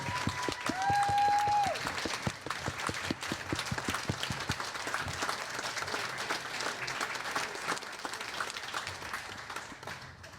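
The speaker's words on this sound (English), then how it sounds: "Please give him a standing applause." A standing ovation at a community all-candidates council forum for a township councillor. Loud, sustained clapping from many hands runs about ten seconds and fades slightly toward the end, with a brief high whistle-like tone near the start.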